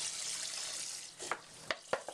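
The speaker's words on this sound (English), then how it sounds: "I'm squeezing the box instead of pouring" Vegetable broth squeezed from a carton into a pot for French onion soup, a steady pouring gush that thins out, followed by a few gurgling glugs and splashes close by.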